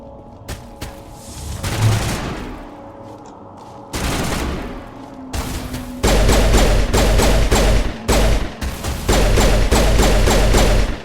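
Gunfire in the game Mass Effect Legendary Edition comes in separate bursts, from a few scattered shots to dense sustained volleys over a low rumbling boom, loud and close throughout.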